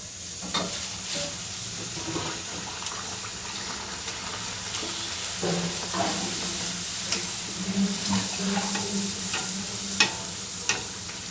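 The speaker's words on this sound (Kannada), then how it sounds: "ಈಗ ಇದಕ್ಕೆ ಡೀಪ್ ಫ್ರೈ ಮಾಡೋದಕ್ಕೆ ಎಣ್ಣೆ ಇಡೋಣ ಎಣ್ಣೆ ಚೆನ್ನಾಗಿ ಕಾಯಬೇಕು" Puris deep frying in hot oil, a steady close sizzle with spoon scrapes and occasional clinks and splashes over about eleven seconds, no speech.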